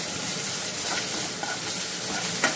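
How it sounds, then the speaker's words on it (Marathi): Ingredients sauté in a hot pan until translucent, making a dense, even sizzle close up, with a brief stirring scrape near the end. "ताका भाजून घेता बरो ट्रान्सल्युसंट जावपर्यंत भाजून घेता."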